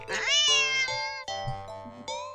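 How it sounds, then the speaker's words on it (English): An angry cat in a video game gives two loud, drawn-out, strained meows in quick succession, the first long and wavering, the second shorter, close and clear with no talking. "The cat only does meow."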